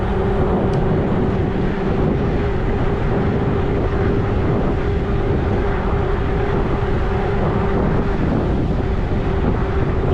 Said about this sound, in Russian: Зараза, ветер.